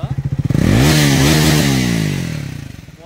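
A Speed 400 motorcycle engine revs up close and loud, the pitch climbing, holding, then falling back to a lumpy idle.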